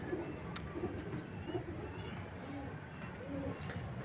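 Soft, repeated coos from a brown breeder pigeon sound in short low phrases about once a second over a steady background hiss, fairly close by.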